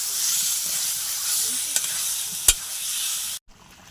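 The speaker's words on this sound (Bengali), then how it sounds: "তার মধ্যে ভেজে রাখা আলুগুলো দিয়ে দিতে হবে, দিয়ে কষিয়ে নিতে হবে, দিয়ে কষাতে হবে।" Steady, bright sizzling of fried new potatoes tossed with spices and Kashmiri chili in a hot pan for a duck egg curry, with an occasional metallic scrape of the spoon before the sound cuts off abruptly.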